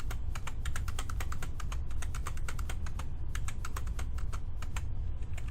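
Rapid, continuous clicking of computer keyboard keys while entering values into Revit software, the keystrokes dense and even, fairly close, over a low steady background hum.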